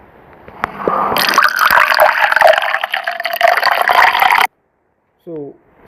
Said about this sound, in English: Then I'm going to choose this water pouring sound effect.